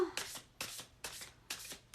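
Tarot cards are shuffled for a card reading, giving four evenly spaced, soft riffling bursts about half a second apart, close and quiet with no talking.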